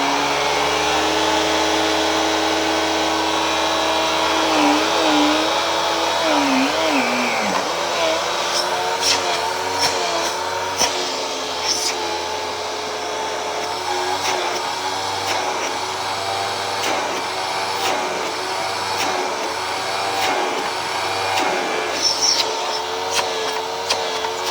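A suction machine is switched on and settles into a steady, loud whine with a low hum beneath. Clicks and knocks sound near the unit. No one speaks.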